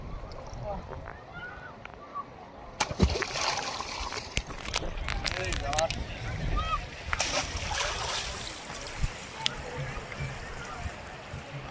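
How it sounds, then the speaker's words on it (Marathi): Rushing river water churns and splashes nearby, with occasional sharper splashes and knocks while someone talks over it. "पाणी पण तेज बघा"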